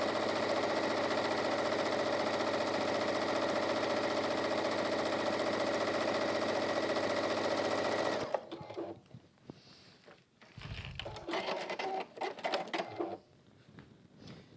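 Sewing machine stitching a line on water-repellent fabric, a fast even mechanical whir for about eight seconds that then stops, followed by quieter fabric handling and scattered clicks.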